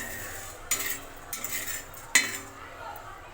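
A utensil stirs curry leaves and dried red chilies dry-roasting in a pan, making a few sharp scrapes and clinks against the metal, close up, over a faint background hum.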